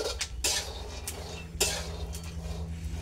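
Pots, pans and utensils clattering during home cooking in a village kitchen, a few sharp metallic clinks and scrapes over a low hum, close and moderately loud, no talk.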